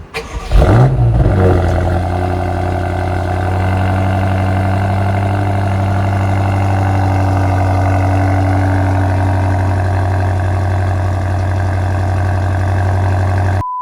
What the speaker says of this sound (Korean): 이 차의 배기음을 한번 들려드려 볼게요 냉간 시동음 한번 들려드릴게요